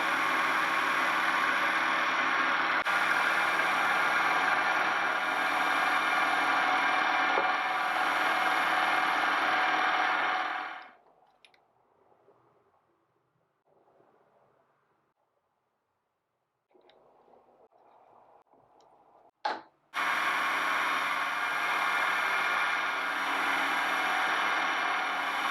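A milling machine takes very light cuts on the faces of a metal part, a loud, steady mechanical hum that stops for several seconds, leaving faint clicks, and then starts again.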